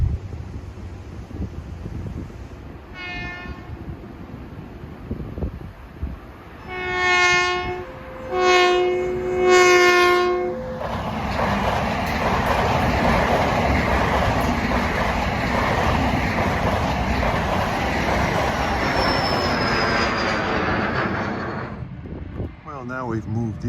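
A Long Island Rail Road commuter train runs eastbound toward Ronkonkoma past PW Interlocking, sounding several horn blasts before thundering by in a long, loud roar of wheels and wind that fades out at the end.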